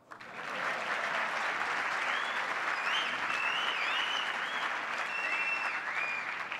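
Sustained audience applause at a panel forum on entrepreneurship, a dense, steady clapping from a crowd that swells in quickly and holds at full strength throughout, with a few faint whistles or calls above it.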